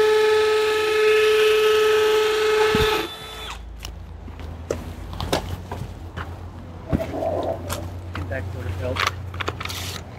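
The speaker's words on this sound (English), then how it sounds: "The drill bit walked a little bit." A power drill whines steadily for about three seconds while boring a hole, then stops, leaving scattered clicks and light handling noises.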